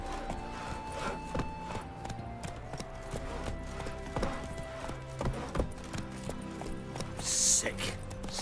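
Horse hooves clip-clopping during riding, a fairly steady series of hoof strikes heard alongside other background sounds, with a brief louder burst near the end.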